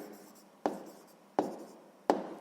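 Three separate pen or pencil strokes on paper as numbers are written into a table, each a short scratchy burst with a quick fade, spaced evenly about three quarters of a second apart, close and fairly quiet.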